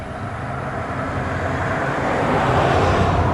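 A vehicle passes steadily by, its broad road and engine rumble building gradually louder toward the end with no clear fade, heard alone without talk.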